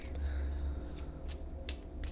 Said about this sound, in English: I shuffle until Spirit tells me to stop.